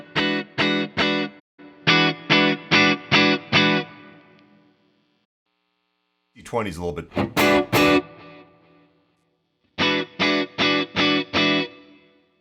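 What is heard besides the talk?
electric guitar through Fractal FM9 amp preset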